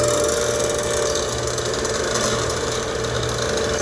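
Steady broadband tire roar and road rumble fill the cabin of a 2023 Ford Bronco Sport, its front-wheel-drive tires worn smooth with some chop, a constant drone with no breaks and no talk.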